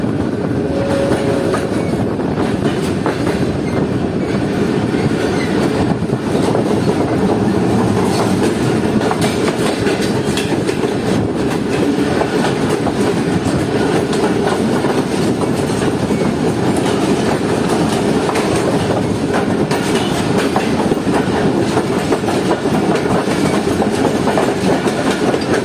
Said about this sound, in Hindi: डाउन में भी हमारे पास एक ट्रेन आ रही है, GU-40 लीड पर है ट्रेन की।